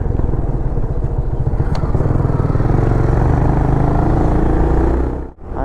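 A motorcycle engine drones loud and close at speed, a steady rough roar from a bike being ridden fast in a race against an NS 160, dipping briefly near the end.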